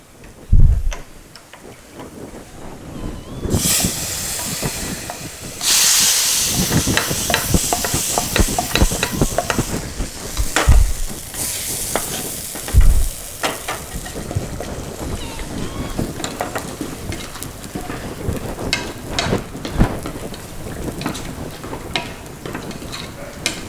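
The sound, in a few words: chili powder frying and being stirred in a pan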